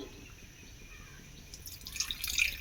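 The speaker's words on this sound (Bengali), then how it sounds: "আটার মধ্যে দিয়ে দেব অল্প একটু লবণ আর দেব জল" Water is poured from close by into wheat flour and a little salt to make a thin batter, starting as faint drips and swelling into a louder splashing trickle near the end.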